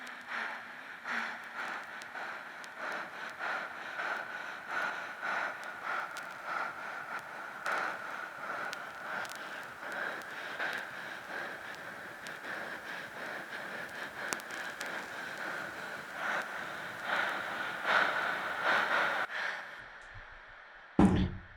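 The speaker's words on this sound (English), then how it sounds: "is just like a single breath with a lot of reverb" A single long breath drenched in heavy Valhalla Supermassive reverb, used as a dark techno atmosphere: a soft, airy wash hanging at a steady low level for around twenty seconds, swelling slightly before ending with a brief thump.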